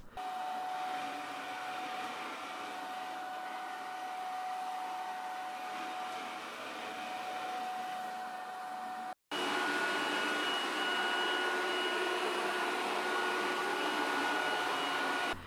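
An EZVIZ RE5 Plus robot vacuum hums steadily on its lowest mode with a whirring motor and faint high whine, then cuts briefly and resumes noticeably louder and brighter on a higher mode.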